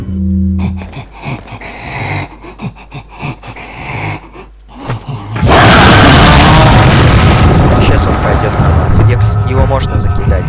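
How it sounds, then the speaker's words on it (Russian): An incendiary grenade bursts in Resident Evil 4 against a Regenerator: after a stretch of game sounds and a voice, a sudden loud blast flares into a sustained roaring fire that fills the rest of the clip. "Кинем мы в него зажигательную гранату."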